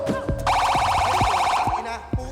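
A harsh electronic game show buzzer blares for about a second over thumping background music with steady beats.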